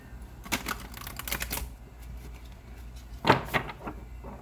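Bursts of crisp riffling and clicking as a deck of oracle cards is shuffled, two flurries separated by a pause, close up.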